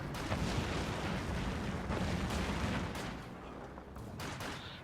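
Flamethrowers and an incendiary grenade burning in a Company of Heroes 2 battle, a dense continuous roar of fire with crackling bursts and sharp impacts, loud and sustained throughout.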